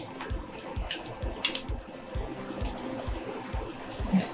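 Boiling water poured into a deep bowl in a kitchen while making hot and sour noodle soup, a steady splashing, trickling stream that runs close by for the whole stretch with no talking.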